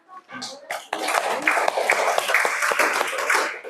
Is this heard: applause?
yes